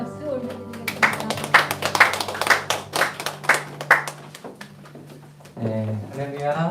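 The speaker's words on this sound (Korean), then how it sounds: "우리 하나님께 영광의 박수 올려드리겠습니다." A church congregation claps together in a quick, rhythmic run of about a dozen sharp claps that fade out, and then a voice begins speaking.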